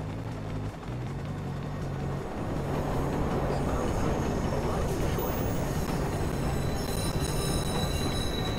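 A train rumbles past in the video game Watch Dogs, a steady broadband roar with low droning hum holding through the clip, growing slightly louder midway, with no talk over it.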